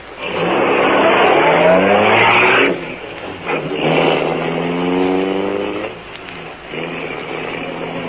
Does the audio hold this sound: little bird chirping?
no